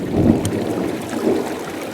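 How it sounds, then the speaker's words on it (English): Thunder rumbles outdoors beside a gold sluice box, a low, continuous roll that swells twice, loud and close with wind buffeting around it. "sounds like the thunder gods are mad at me"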